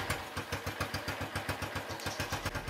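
Motorcycle engine starting and then idling close by, a steady pulsing putter with clear regular beats and a little mechanical clatter, heard alone without voices.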